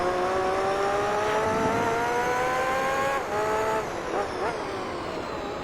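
A Formula GT race car in Gran Turismo 3 holds a loud, steady high-revving engine whine as it laps a circuit, with the pitch climbing and then dropping at a gear shift, followed by rougher engine noise.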